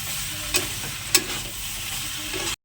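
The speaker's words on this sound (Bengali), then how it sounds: "এবার এটা একটু নাড়িয়ে নেবো নাড়িয়ে নামিয়ে নেবো" A vegetable chorchori of cauliflower stems and winter vegetables is stirred in a pan, giving a steady, dense sizzle with two sharp clinks of the spoon before the sound stops abruptly.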